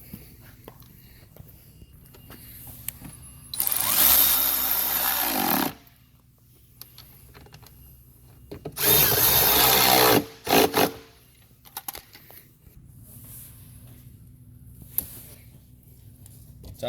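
A power tool runs in two short bursts, driving 10mm bolts back in during a radiator install on a Holden VF VE Commodore SS, with quiet pauses between the loud whirring runs.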